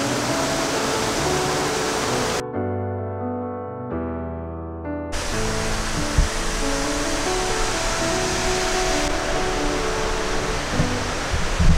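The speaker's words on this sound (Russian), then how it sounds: "И вот он опять, наш водопад." The Poceta de Cristal waterfall in Cuba rushes continuously in a steady broadband roar, with a brief, quieter cut in the middle before the constant pouring noise returns.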